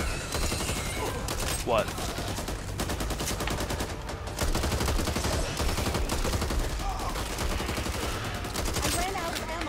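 Near-constant automatic gunfire and rapid shots fill a chaotic firefight in the co-op zombie shooter Back 4 Blood, dense and loud throughout, with players shouting and talking over the noise.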